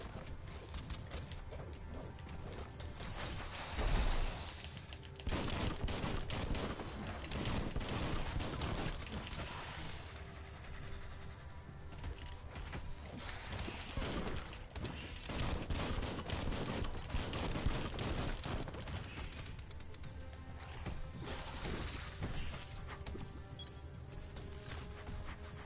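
Rapid, dense gunfire rattles through a Biomutant battle, with bursts of shots and impacts piling into a loud, continuous barrage across the whole stretch. No voices break through the din.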